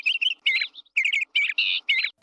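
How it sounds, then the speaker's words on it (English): A small bird chirps in quick, bright bursts, a run of high tweets with short gaps between them, close and clear with no background noise. "A bird chirping."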